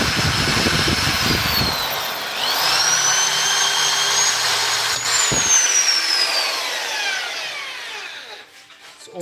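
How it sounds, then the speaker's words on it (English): Power drill boring into the side of the secondary metal tube of an oil gun, a loud whining drive that rises and holds in pitch, briefly stops, resumes, then winds down alone. "It always sucks to drill from the side"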